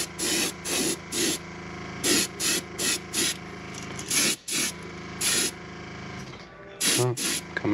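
Thinned clear coat sprayed onto a fishing lure in short repeated hissing bursts, about a dozen blasts with brief gaps, close and fairly loud, with some talking alongside.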